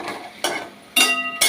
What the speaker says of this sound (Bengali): পাঁপড় ভাজছি